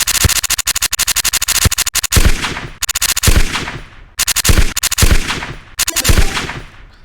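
A modded rifle in a video game fires in rapid automatic bursts, four strings of sharp cracks separated by short pauses, loud and close with no talk.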